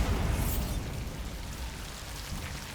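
Bombarda spell blast in Hogwarts Legacy, a loud broadband explosive burst at the start that rumbles and decays into a sustained low roar across the whole stretch, with no speech.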